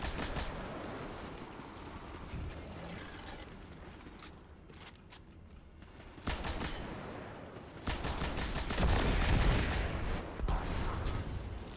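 Gunfire in the Destiny 2 video game: bursts of rapid shots and fusillades keep coming over a dense, busy background of battle noise, louder toward the end.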